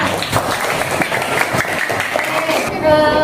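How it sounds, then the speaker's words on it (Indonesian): A class of children clap together for a classmate, a dense steady patter of many small hands filling the room, ending with a brief tonal sound at the close. "Tepuk tangan buat Amizan"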